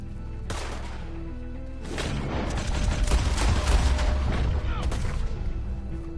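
Gunfire in Red Dead Redemption during a night shootout, bursts of shots and booming impacts that thicken into a dense, loud barrage midway, with game sounds underneath.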